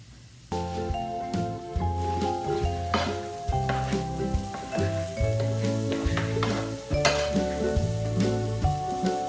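Vegetables for a vegan veggie burger sizzle steadily in a hot pan, with a spoon or spatula repeatedly stirring and scraping against the metal in a loose rhythm, close and moderately quiet.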